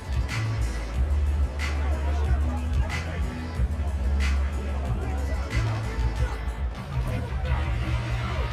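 Stadium crowd noise from the Madden 24 football video game during a late playoff drive: a steady, distant roar of fans running continuously beneath a commentator's voice.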